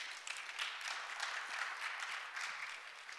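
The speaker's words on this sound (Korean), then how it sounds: "귀한 시간을 내주신 분들께 박수를 부탁드리겠습니다" An audience at a special session gives fairly faint, steady applause for the panelists, a soft continuous patter of many hands lasting a few seconds with no talk.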